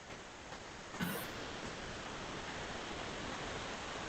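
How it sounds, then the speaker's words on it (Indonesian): Heavy rain falling in a steady dense hiss that swells slightly after the first second, continuous and fairly faint, with no talk. "Oh, makin deras hujannya nih Bu."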